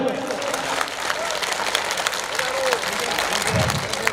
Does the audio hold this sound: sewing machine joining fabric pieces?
no